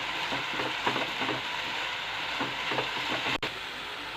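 Spices stirred into frying ladies finger (okra) sabzi in a pan, a steady close sizzle with soft scraping strokes of the spoon throughout, no talking.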